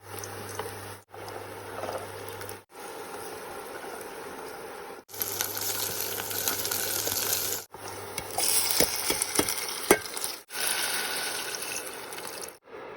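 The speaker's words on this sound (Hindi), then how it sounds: "मैगी पक रही है" Maggi noodles with chilli, onion, tomato and peas bubbling in a pot, giving a close, steady watery boil and patter that comes in several segments split by brief cuts, with no voices.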